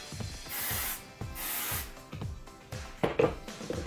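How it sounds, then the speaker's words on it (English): Texture spray misted onto hair in a few separate bursts, each a soft close hiss, with light rustling and handling noises between them. "And then I'll go in again with the texture spray and kind of get some all over my hair this time."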